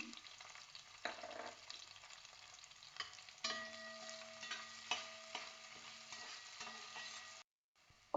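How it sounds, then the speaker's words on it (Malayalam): Ginger, garlic, green chilli and shallots fry in a bronze pot, giving a soft, steady sizzle broken by occasional scrapes and clinks of stirring, with no talking. "ഇഞ്ചിയും വെളുത്തുള്ളി നന്നായിട്ട് മൂത്ത് വന്നിട്ടുണ്ട്"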